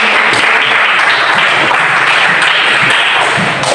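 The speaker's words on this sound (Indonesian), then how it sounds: "Baik, berikan aplaus." A class of students applauds, dense steady clapping filling the whole stretch, loud and close, with no talking over it.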